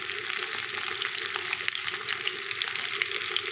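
Kebab pieces sizzle and fry steadily in a pan, a dense continuous crackle with small popping spatters, close and fairly loud, with no talking.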